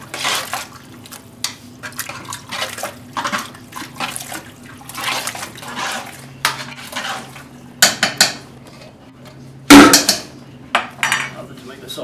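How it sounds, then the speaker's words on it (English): Spoon stirring spices into a large pot of Yugoslavian fish stew, irregular scraping and clanking against the pot with a few sharper knocks, close up, with some quiet voice sounds in the background. "Make sure we get our spices mixed evenly in here."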